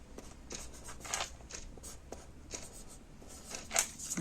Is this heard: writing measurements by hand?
yes